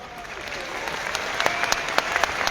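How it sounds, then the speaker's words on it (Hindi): Audience applause fills a large Delhi stadium, a steady wash of many hands clapping with sharper individual claps rising toward the end, fairly close and sustained. "और इन लोगों की तालियों से इस बात का एहसास होता है"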